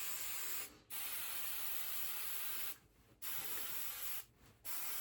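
Spray starch hisses from a can onto a dress uniform tunic in three steady bursts, the first short and the others longer, each separated by a brief pause. The spraying is close but fairly quiet.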